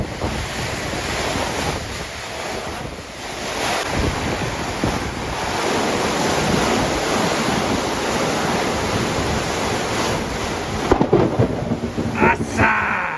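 Heavy rain and a thunderstorm on a midsummer evening, a dense steady roar of downpour with low rumbling thunder throughout, loud and continuous, with a few sharper knocks near the end.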